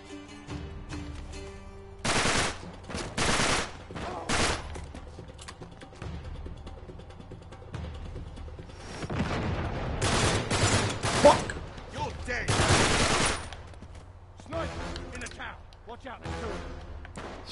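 Sniper shots and return fire in Uncharted 3: Drake's Deception crack out in several short loud bursts, spaced irregularly over steady background game noise, with someone talking in between.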